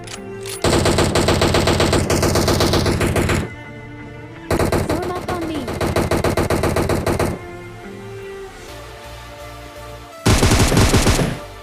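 An AWM sniper rifle and other gunfire sound in PUBG Mobile: loud bursts of rapid automatic shots come in several long strings separated by quieter gaps with faint background game sound.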